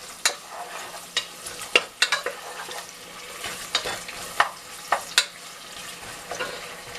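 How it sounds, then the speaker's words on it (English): Onions cook in oil in a pot for Ghanaian jollof rice, a faint soft sizzle beneath scattered sharp clicks and scrapes of a spoon stirring against the pan, irregular and fairly close. "So I let my onion cook for some few seconds."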